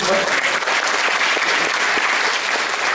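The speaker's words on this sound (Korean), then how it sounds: "박수 한번 쳐주시죠." At a talk concert with local government leaders, the audience bursts into loud, sustained applause, many hands clapping evenly throughout with no one speaking over it.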